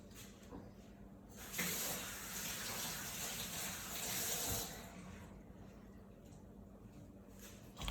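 A kitchen water tap runs while samphire is rinsed, giving a hissing gush that rises for a few seconds and then falls back to a quieter trickle, with no talking.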